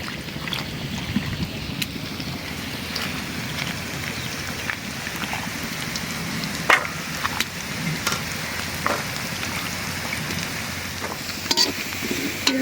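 Faint steady sizzle of frying in oil in a pan while cooking a bottle gourd curry with shrimp, a continuous soft hiss with occasional small clicks and scrapes, no one talking.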